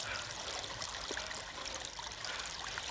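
Water streams along a freed channel toward the fields, a steady broadband trickle and rush that runs unbroken and fairly close throughout.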